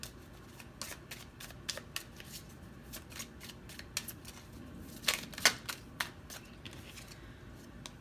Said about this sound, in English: Let's get 4 more cards for pile 4.